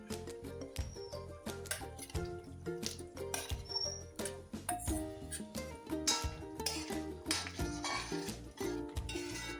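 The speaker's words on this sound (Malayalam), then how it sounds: "ഇനിയും പനീർ ചേർത്ത് കൊടുക്കാമേ" Paneer cubes go into a kadai of gravy with onion and capsicum, bringing a quiet run of close clinks, scrapes and knocks from a spoon against the pan, irregular and fairly faint, with no talking.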